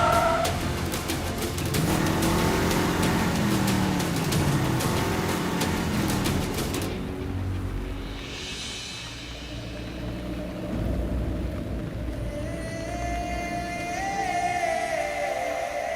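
A car turns around and drives off, its engine rumbling steadily with a brief tire scuff, then easing into a quieter, more distant hum.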